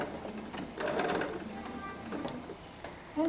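A sewing machine stitches in reverse while binding a quilt, a quiet rapid mechanical chatter in short close bursts with small pauses between runs.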